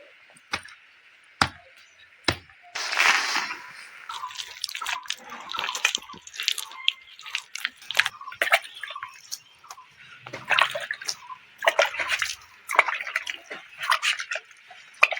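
Water splashes and sloshes as clothes are soaked by hand, with irregular close wet slaps, pours and drips coming in uneven bursts without talk.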